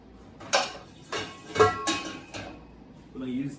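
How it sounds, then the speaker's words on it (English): A big metal pan is handled and set onto a kitchen stove, giving four or five distinct clanks and knocks at irregular intervals, close and fairly loud, with a soft voice near the end. "So let me just get a pan going onto the stove."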